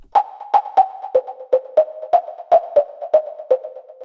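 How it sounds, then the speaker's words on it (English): A resonant, pitched percussive synth pluck made from filtered white noise plays a rhythmic Afro house pattern, each hit a short noisy attack ringing into a tonal hum, repeating about every quarter second. "a nice percussive plug sound that was made using white noise only"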